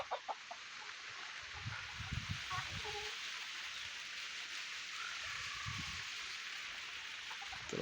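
Heavy rain pours steadily on a farm, a dense continuous hiss throughout, while chickens cluck intermittently nearby and a voice murmurs faintly in the background.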